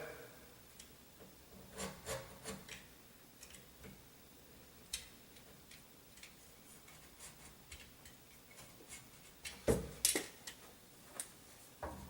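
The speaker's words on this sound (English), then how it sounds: "I'm going to just use my utility knife and re-score it out a little bit" Utility knife blade scoring and scraping wood to clean out a door latch mortise while a lockset is installed, a series of faint close rasping strokes with a sharper scrape near the end.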